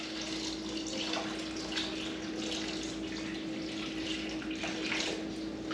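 Tap water runs steadily into a cooking pot that already holds chicken stock, being filled for chicken bog; a continuous broadband rush with no breaks and no voices.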